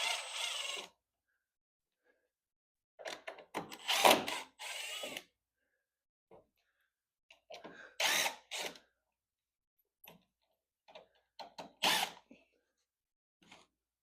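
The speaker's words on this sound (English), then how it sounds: "so I'm going to unscrew the sides here" A power drill backs screws out of the sides of a wooden equipment crate in short separate whirring bursts with quiet pauses between them, close up and alone.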